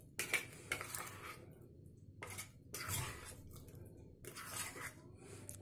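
A spoon stirs and scrapes spiced boiled potatoes in a metal pan for aloo barule, an Aligarh street chaat, giving several short, quiet clattering bursts separated by brief pauses.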